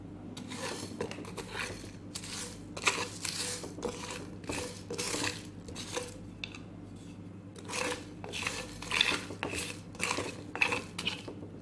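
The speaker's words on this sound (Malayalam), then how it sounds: "അതിലേക്ക് നമുക്ക് ഹോൾ മസാല ഇട്ട് കൊടുത്ത് അതൊന്ന് ഫ്രൈ ചെയ്ത് എടുക്കാം." Whole spices being dry roasted in a pan, heard as repeated metallic scraping and clinking of a utensil against the pan in irregular strokes, close and moderately loud, with no talk.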